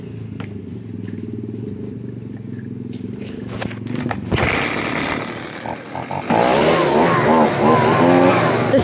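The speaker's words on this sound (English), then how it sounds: "Good old Husqvarna 125 BV." A Husqvarna 125 BV needing a small carburetor adjustment runs loud and close, with a buzzy two-stroke idle that climbs into sharper, higher revving while a person speaks briefly.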